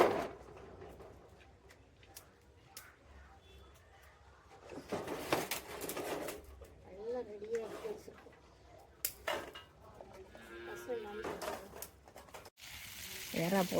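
Prawns frying in a clay pan over a wood-fired stove, a quiet start that breaks into bursts of sizzling with pan and utensil clatter, a voice speaking now and then.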